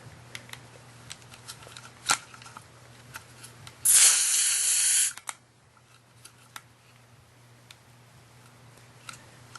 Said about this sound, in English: when you are screwing this in, you will hear a fizz. This is just the CO2 going in.